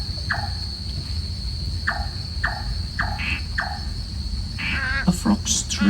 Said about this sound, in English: A nightjar's song,